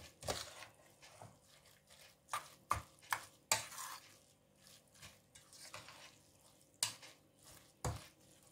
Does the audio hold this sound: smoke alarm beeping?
no